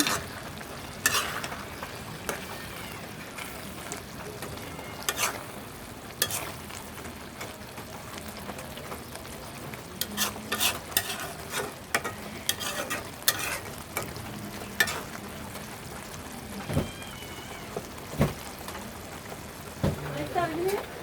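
Shrimp and chili curry simmering in a pan, with soft sizzling and repeated sharp clinks and scrapes of stirring spread across the stretch, while a person talks quietly at times.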